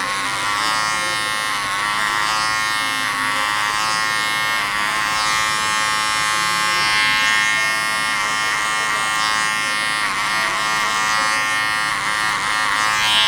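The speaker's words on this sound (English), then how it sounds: "I'm gonna start by just clipper over combing it." Hair clippers run steadily in a barbershop, working clipper-over-comb through hair being taken down short, with a continuous close buzz whose pitch wavers slightly as the blade moves through the hair.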